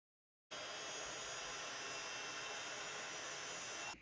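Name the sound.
heat tool heat embossing white embossing powder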